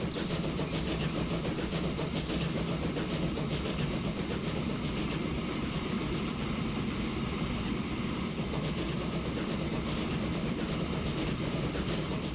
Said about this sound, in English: Now really that is the picture of the old mental image of a steam train,